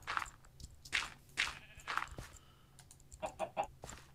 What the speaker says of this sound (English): Chicken, come on.